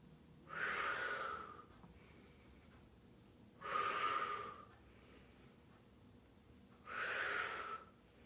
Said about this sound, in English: Exhale to lift, inhale to lower.